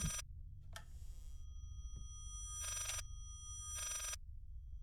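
An old-fashioned telephone bell rings in the horror game Layers of Fear, sounding in separate bursts: one short ring, then two longer rings, against a low, quiet room hum.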